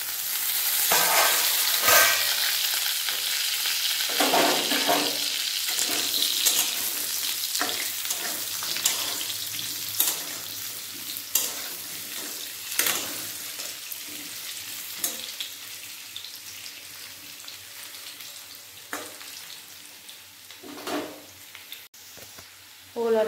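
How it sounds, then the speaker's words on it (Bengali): Chunks of elephant foot yam and potatoes frying in hot oil, a steady close sizzle broken by repeated scraping stirs in the pan, with no one speaking. "ওল আর আলু ভালো করে ভাজা হয়ে গেছে লাল লাল করে।"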